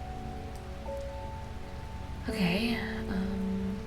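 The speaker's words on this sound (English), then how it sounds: "Oh, it's raining. Marvelous." Rain falls steadily in the video game Strange Horticulture, a soft hiss beneath gentle musical tones, with a brief spoken word near the start.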